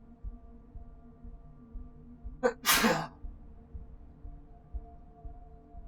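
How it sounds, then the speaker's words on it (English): A person sneezes once, close and loud, a short sharp burst standing out from quiet room tone, with no talk around it. "Gotta sneeze."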